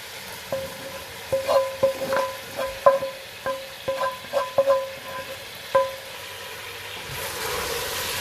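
Masala is stirred into mutton nihari in a pot, a spoon knocking and scraping the metal in an irregular series of ringing taps over a faint low simmer.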